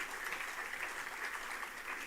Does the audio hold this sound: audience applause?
yes